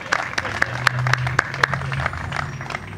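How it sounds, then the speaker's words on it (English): A modest crowd at a county announcement about new bike trails applauds briefly, with a few close, sharp claps in a quick rhythm over a softer spread of clapping and a faint voice underneath. "Give him a round of applause."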